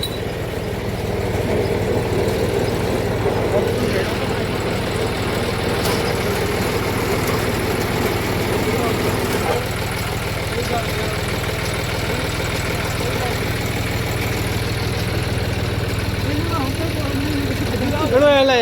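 A new farm water-pump motor engine runs steadily in a field with a low, continuous droning hum that stays loud throughout, its pitch rising slightly near the end as it revs, with faint voices in the background.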